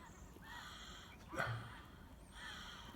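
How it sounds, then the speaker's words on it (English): A large flock of geese honking as they fly north over open pasture, faint and distant calls repeating across the stretch with one louder honk in the middle. "That's a big bunch of geese."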